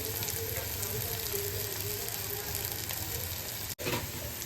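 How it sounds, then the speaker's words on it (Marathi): Grated coconut sizzles in hot oil in a home kitchen pan, a dense, steady crackling hiss that holds evenly throughout with one brief dropout near the end. "तेलात फ्राय करून घेऊया."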